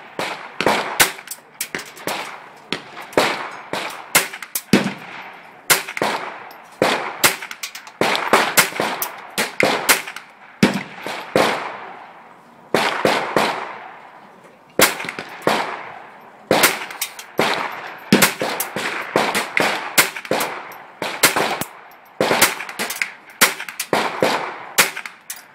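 Ruger 10/22 rifle shots fired at a target 50 yards away, sharp loud cracks in rapid irregular bursts with short pauses between strings, heard close and without talk.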